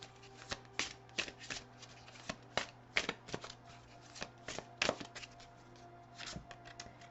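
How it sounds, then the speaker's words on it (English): Tarot cards shuffled by hand close up, a quiet run of crisp riffling snaps and soft flutters at an uneven rhythm, with no talking. "let's pull another card here from Life Changes"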